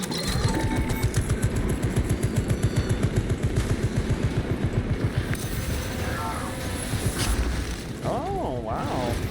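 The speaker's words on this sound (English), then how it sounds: "We activate our turrets now." Turrets firing in a video game, a rapid, evenly pulsed mechanical rattle of automatic fire that runs loud and continuous, with whooshing effects toward the end.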